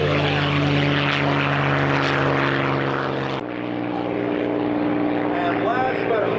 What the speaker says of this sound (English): just becoming airborne, the P-51 Mustang